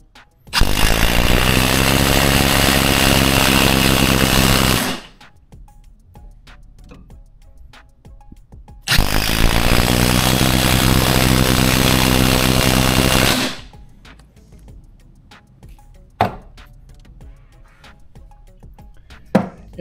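DeWalt impact driver sinking an eight-inch timber lock screw, two loud, sustained bursts of rapid hammering buzz of about four seconds each, with a quiet pause between and a few clicks afterward.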